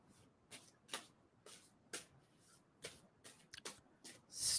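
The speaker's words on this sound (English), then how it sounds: "tell me to stop shuffling on that" A deck of playing cards being shuffled, a series of crisp riffling bursts repeating roughly every half second to second, close and fairly quiet with no speech.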